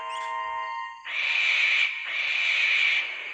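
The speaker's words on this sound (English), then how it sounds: "It was only an owl, but Percy didn't realize this." An owl hoots at night in a stop-motion railway story, with a sustained, fairly loud call in two long phrases after a brief tonal intro, heard alone without talk.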